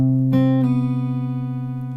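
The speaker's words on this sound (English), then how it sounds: "That's a pull off." A single guitar note from the pull-off technique, played while learning a song, rings out, with a brief pluck near the start and the pitch shifting lower partway through as the note sustains alone.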